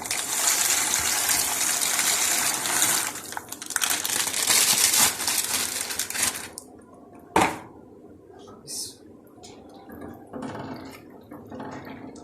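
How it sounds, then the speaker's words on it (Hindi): Macaroni going into a pot of lightly boiling water with a spoonful of vinegar: a loud, steady watery rush for several seconds, then a quieter stretch with a sharp metallic clink and soft bubbling and dripping. "हमारा हल्का सा पानी बॉयल हो रहा है इसमें"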